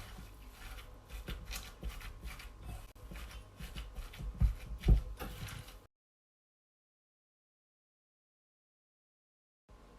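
Brioche filling being mixed with spices by hand, a close, soft rubbing and squishing that lasts about six seconds and then stops, leaving near silence.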